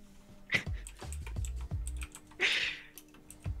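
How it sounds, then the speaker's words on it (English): Rapid clicking of keys on a computer keyboard, a brisk uneven run of taps close by, with one louder burst partway through and no talking. "stop typing."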